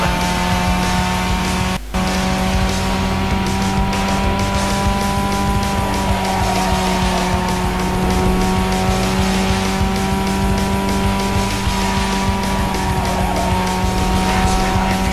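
Engine of a race car in Need for Speed Underground 2 drones at a steady high pitch with occasional tire squeal, loud and continuous, with a brief dropout near the start and no voices.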